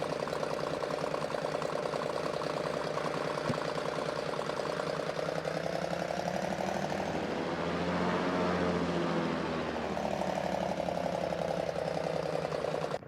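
Continuous droning propeller engine of a Thranda Cessna C206 in a flight simulator game, loud and steady with a rising and falling swell in pitch midway, no talk.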